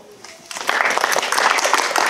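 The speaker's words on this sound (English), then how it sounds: "why don't we give these guys a round of applause?" A church congregation at a Sunday morning service breaks into applause after a short pause, the clapping swelling quickly into a full, steady round that carries to the end.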